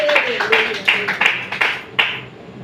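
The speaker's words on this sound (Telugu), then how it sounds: "చప్పట్లు కొట్టి దేవుడికి స్తోత్రం చెప్పంతే." Congregation clapping hands in praise during a church healing service, several separate claps landing in an uneven rhythm with crowd murmur underneath.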